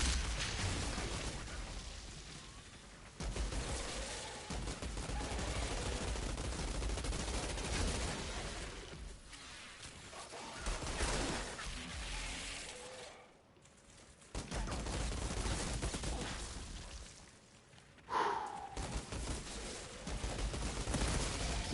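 Sustained enemy gunfire in the Outriders video game during a Devastator campaign fight, dense bursts of shots rolling through most of the stretch with brief lulls and a few sharper blasts, fairly loud and continuous.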